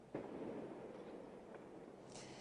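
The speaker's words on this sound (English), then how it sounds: "we've seen a lot of fireworks flying high into the sky over the past hour or so" Fireworks bursting outdoors at night over Portland around the Fourth of July, a sharp distant pop followed by a rumbling crackle and a few fainter pops further off.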